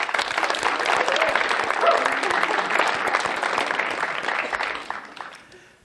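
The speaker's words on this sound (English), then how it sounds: "how about a round of applause for Johnny?" Concert crowd at a fall jazz performance breaks into sustained applause, a dense wash of many hands clapping that holds steady before tapering off near the end.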